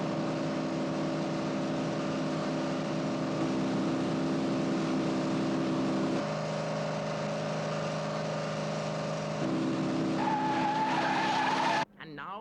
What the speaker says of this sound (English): the two cars move out of sight as they come into the difficult cliff stretch